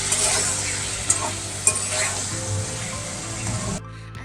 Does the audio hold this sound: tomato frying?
yes